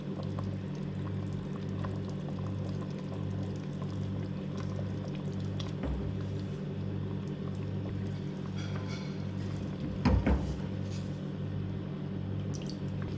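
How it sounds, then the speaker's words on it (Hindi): Oil is spooned off cooked chicken nihari in a tilted pot, giving soft liquid pouring and dripping under a steady pulsing hum, with a brief louder clatter near the end. "अब मैं ये करूँगी कि इसका सारा ऑयल उतार लूँगी"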